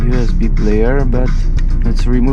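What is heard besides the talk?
No everyday noises stand out.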